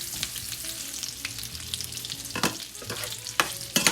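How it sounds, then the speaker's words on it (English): Microwaved potatoes tossed with butter in a hot pan sizzle steadily, broken by a few sharp scraping stirs near the end, close and fairly loud. "So I'm going to put my microwave potatoes in the pan."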